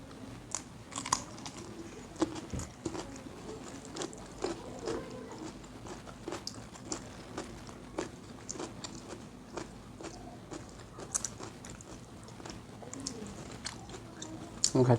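Spicy fried chicken being bitten and chewed up close, with quiet, repeated crunchy bites and wet chewing at an irregular rhythm, and a faint voice in the background.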